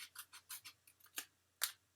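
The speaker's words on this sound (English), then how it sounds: "take my scissors and follow my score line all the way up to the top" Scissors snip through card along a scored line, a quick series of crisp, close, quiet cuts in an irregular rhythm with brief pauses, no voices present.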